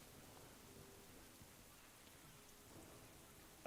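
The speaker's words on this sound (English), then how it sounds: "I can hear the rain falling, but that's about it." Soft, steady rain falls in the video game World of Warcraft, a faint, even hiss of drops that continues without break, alone and with no other game sounds.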